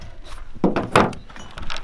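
A new master window switch for a 2001-2007 Nissan X-Trail T30 is pressed back into its door panel, making two dull plastic thunks about a third of a second apart over faint room noise.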